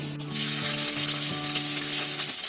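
Loud, steady sizzling as curry leaves hit hot oil, crackling continuously, with a low hum in the background.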